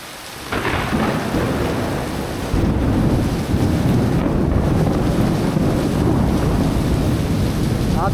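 A heavy downpour in the hills of Nainital, with steady rain hissing and thunder rolling in a deep, sustained rumble that swells early and continues throughout.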